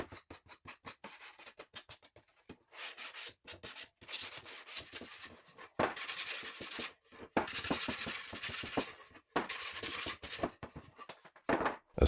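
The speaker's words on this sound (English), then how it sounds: "a quick sanding and they're gone." Quick bursts of hand sanding rub over CNC-cut furniture parts to clear away tab traces, with short scratchy strokes in uneven rhythm, close and fairly quiet, no talk.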